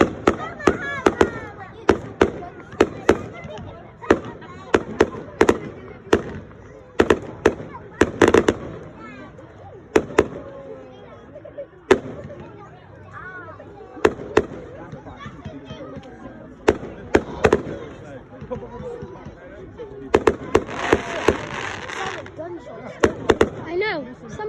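Bonfire night fireworks bang again and again across the night, a long series of sharp cracks and booms of varying distance and loudness, some crackling, while people chatter and talk nearby.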